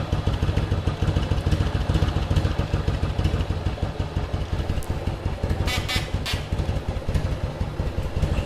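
1100cc motorcycle engine idling low, a close, steady rapid lumpy putter with some mechanical clatter and a few light clinks near the end, no talk.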